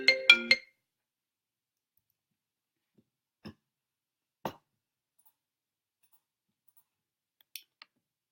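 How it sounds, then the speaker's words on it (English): A mobile phone ringtone sounds in a short tonal burst of three quick pulses, followed by long quiet gaps broken only by a few faint clicks. "my phone just rang"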